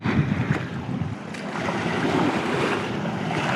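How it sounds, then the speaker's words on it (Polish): Water slaps and sloshes against a small boat in gentle, uneven waves, with wind buffeting the microphone throughout. "Takie małe fale i jak ją buja."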